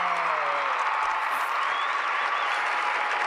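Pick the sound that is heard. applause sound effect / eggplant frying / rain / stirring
applause sound effect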